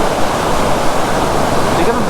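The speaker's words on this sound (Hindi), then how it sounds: "ये देखिए शानदार वाटरफॉल" Broad steady rush of a large waterfall beside a mountain road between Sarahan and Chitkul on the Spiti route, continuous and loud with no break, filling the whole clip.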